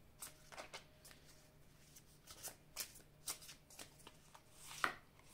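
Tarot cards handled and drawn from a deck, a series of soft close shuffling swishes and flicks in irregular bursts, with one sharper card slap near the end, quiet setting without talk.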